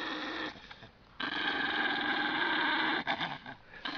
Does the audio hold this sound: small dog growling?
yes